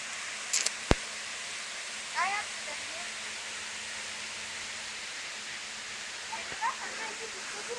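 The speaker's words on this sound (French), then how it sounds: "La fameuse cascade." A mountain waterfall near the Col de l'Arc pours out a steady, even rush of noise that fills the whole stretch, with a few brief chirps and faint distant sounds over it.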